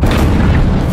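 A breaching explosion in the video game Marauders, one loud, dense boom with a deep rumbling body that fills the entire short moment.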